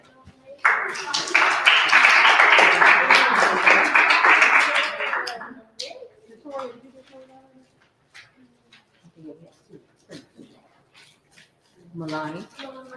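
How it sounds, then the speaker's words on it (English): An audience applauds for scholars at an Ascension Scholars gathering, with dense, loud clapping for about five seconds before it stops and a voice speaks over scattered quieter sounds. "Come on, big clap for Margaret."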